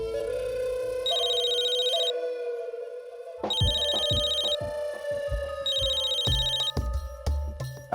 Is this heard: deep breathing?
no